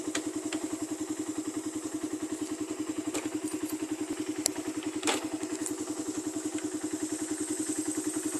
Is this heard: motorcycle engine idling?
yes